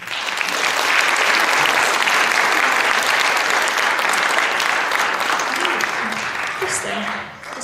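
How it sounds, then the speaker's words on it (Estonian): Audience applause at a music school spring concert in Paide, Estonia, a sustained dense clapping from a hall crowd that stays loud for several seconds, then tapers off as a voice begins faintly at the end. "Nii et tehke üks suur aplaus ka endale."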